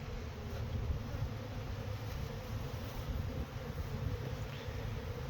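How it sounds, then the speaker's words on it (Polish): Honeybees crowd through a pollen trap fitted at the hive entrance, giving a continuous close buzzing hum at a fairly low level with no speech. "Zobaczmy jak pszczoły sobie przechodzą."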